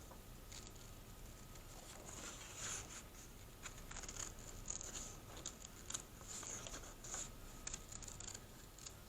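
Scissors snip through paper while a craft piece is cut out, faint close crisp snips and light rustling scattered irregularly over a quiet background, no talking.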